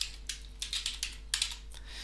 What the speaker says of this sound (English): I type the person's name in that I want to send the email to